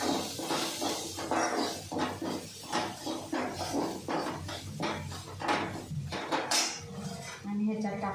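Masala being sautéed with boiled potatoes in a pan, with repeated scraping and clinking of a spatula against metal over a soft hiss, close and busy throughout.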